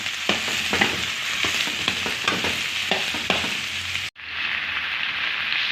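Chicken feet for adobo sauté in a hot pan, a loud close sizzle with repeated scraping stirs for about four seconds, a brief break, then a steadier, smoother frying hiss.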